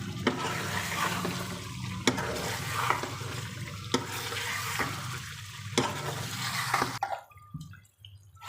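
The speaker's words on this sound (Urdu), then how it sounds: "اب 1 منٹ کے لیے اس کو ہلانا ہے، چمچ لگانا ہے اس میں." A spoon stirs white chicken karahi in a pan, scraping and sizzling in a steady rhythm with sharp metallic clinks every second or so, then stops as the frying quiets.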